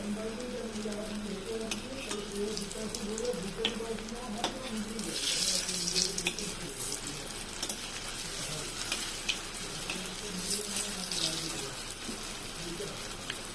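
Paneer koftas dropped one by one into hot oil to fry, a continuous close sizzle and bubbling that swells and settles, with faint voices talking underneath.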